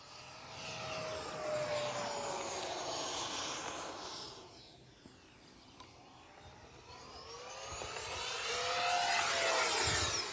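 A Dynam Meteor V3 70mm electric ducted-fan RC jet on a 6S battery flies at half throttle, its whooshing whine fading as it passes away and swelling again on the return, with faint background noise.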